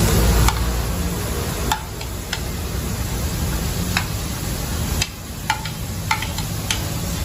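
Chicken liver and squid stir-frying in a hot pan, a steady loud sizzle with sharp clicks of a spatula scraping and tossing at irregular intervals, no talking.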